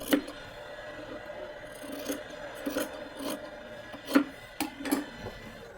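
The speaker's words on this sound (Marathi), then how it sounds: "एक्स्ट्रा भाग कापून टाकायचा" Scissors snipping away excess fabric while a pocket is sewn onto palazzo pants, several separate rasping cuts spaced irregularly over a faint steady background.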